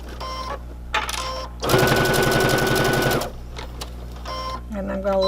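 A sewing machine stitches a mask with a filter pocket, with a dense, steady mechanical chatter in one loud burst of about a second and a half. Quieter stretches of talk come before and after it.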